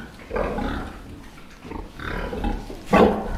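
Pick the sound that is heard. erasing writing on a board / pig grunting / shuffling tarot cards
pig grunting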